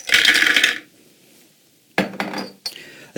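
Raw cashews poured into a container for vegan ricotta, a loud hard rattling pour lasting under a second, followed by a quiet pause and then two short clattering bursts of nuts settling.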